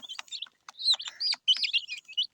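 Several high, thin peeps and chirps from a native chicken chick, quick and irregular, close by with short gaps between calls.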